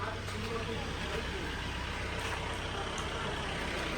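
A traffic jam with trucks on a road in the Konkan region during the Ganesh festival: a steady wash of idling engines and road noise with a low drone, voices murmuring faintly underneath.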